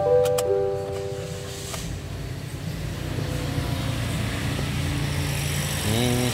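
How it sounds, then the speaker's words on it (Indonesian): Toyota Sienta engine idling with the fan belt removed, a steady, smooth low rumble running throughout at close range, with faint tonal whines near the start and end. "suara mesin jadi halus ya, tidak kasar seperti tadi kondisi tali kipas tercopot"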